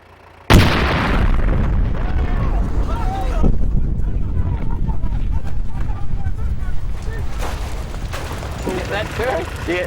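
A massive blast as a targeted armoured vehicle explodes and its turret is thrown, opening with a sudden sharp boom followed by a long, loud rumbling roar that sustains with crackling bursts, with voices talking over it.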